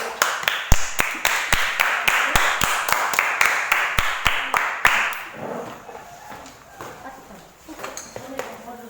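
A classroom group applauds a presenting group with quick, rhythmic claps for about five seconds, then the clapping fades into murmured voices in the room.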